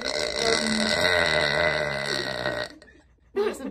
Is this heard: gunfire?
no